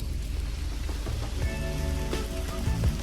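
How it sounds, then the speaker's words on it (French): Rain beginning to fall during a hike, a steady close hiss of drops on surfaces and gear with scattered louder taps and patters, no one talking. "il commence à pleuvoir"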